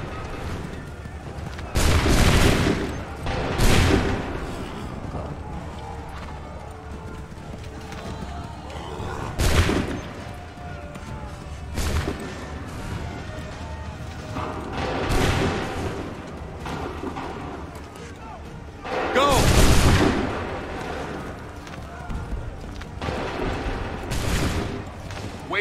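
Repeated musket volleys ring out across an Assassin's Creed 3 battlefield, several loud booming blasts spaced irregularly a few seconds apart over a rumbling background with shouted commands.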